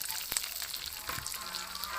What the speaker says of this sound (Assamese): কণীখিনি এতিয়া মই ভাজি ল'ম অলপ।